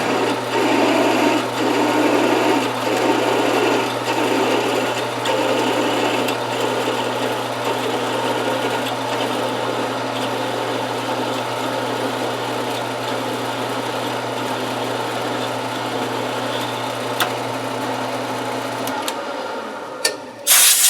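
Drill on a milling machine boring pilot holes for tapping in low profile steel clamps, a steady mechanical whir with a constant low hum that runs loudly and evenly before stopping near the end.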